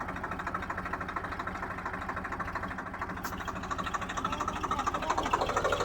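Tractor engine running steadily nearby, a rapid rhythmic diesel chugging that grows slightly louder toward the end, with no talk over it.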